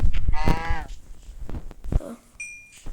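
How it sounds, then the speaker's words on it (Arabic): A Minecraft cow moos in a single short, loud call near the start, followed by scattered game sounds and a brief electronic beep. "يا الله، هي بقرة هي"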